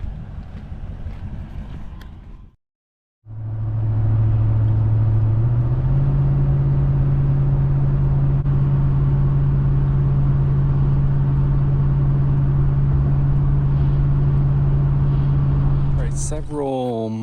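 A 2001 Toyota Sequoia engine drones steadily while driving on the road. The steady, loud running sound carries wind and road noise, and a brief dropout comes near the start.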